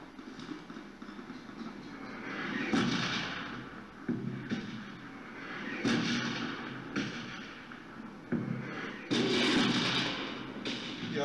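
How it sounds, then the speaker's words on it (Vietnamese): Bomb blasts in PUBG Mobile go off repeatedly, several sharp bursts with rumbling tails spread across the span, mixed with ongoing game noise. "Rồi mém đến bom nổ chết tươi luôn."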